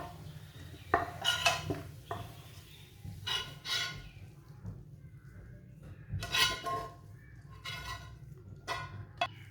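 Fried crispy chicken being moved onto another plate: a series of close clinks and scrapes of utensils on metal dishes, coming in irregular bursts over a quiet background with no talking.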